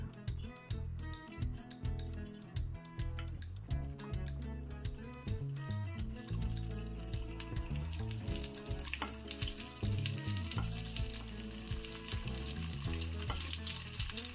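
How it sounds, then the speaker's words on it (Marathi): Stuffed okra shallow-frying in a little oil in a pan makes a steady, close sizzle with rhythmic bursts and occasional stirring clatter. Background talk is faint or absent. "तर मी सर्व भेंडी ही अशी फ्राय करून घेते."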